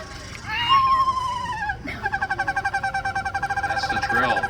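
A screech owl's whinny descends, then a fast, even trill of rapid pulses follows and carries on steadily, clear and fairly close in an outdoor recording, with faint background chatter.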